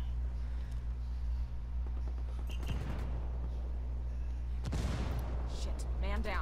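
A frag grenade explodes in the Ghost Recon Wildlands shooter game, with two heavy booming blasts a couple of seconds apart over a constant low rumble of game ambience, while a voice talks.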